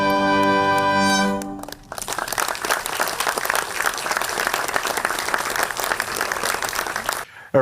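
Loud, dense applause for a classical ensemble of African heritage in Lagos, sustained for several seconds after the tail of a musical chord and stopping abruptly near the end.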